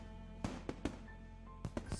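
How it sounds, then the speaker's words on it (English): Fireworks blasting in the visual novel Katawa Shoujo, a handful of sharp bursts, three close together then two more, popping over a steady low background hum. "Minutes of silence pass, with only the blast of fireworks to be heard."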